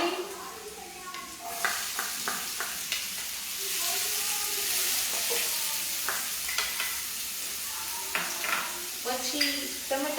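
Dried onion sizzling and frying in a pan, a steady hiss with scattered crackles and spatters plus occasional stirring clinks, close and continuous.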